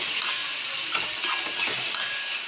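Boiled chickpeas stirred into a spiced masala in a pan give a continuous sizzle, with soft, repeated scraping and mixing sounds close by and nobody talking.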